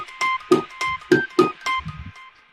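Bells from a hip hop beat in Maschine strike in a quick rhythmic run of about seven bright, ringing hits with short decays, followed by a softer low tail, played alone without talk.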